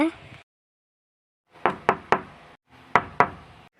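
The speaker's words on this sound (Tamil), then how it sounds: "ஏன்டி கதவை தட்டுற?" Knocking on a door at home: two separate bursts of sharp knocks, first three raps and then two, close and loud, with faint talk just before.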